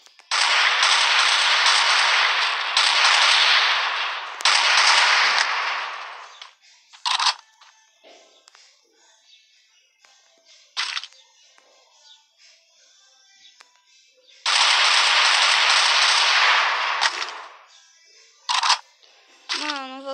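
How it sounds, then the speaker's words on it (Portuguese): Gunfire from the mobile shooter game Free Fire comes in long, loud, dense bursts of rapid automatic shots, separated by quieter gaps where a person talks. "Vou gastar minhas balas"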